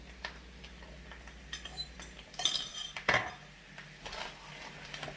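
Utensils scrape and clink against a pan of Polish kielbasa and sauerkraut in short irregular folding strokes, with occasional sharper metallic taps, no voices.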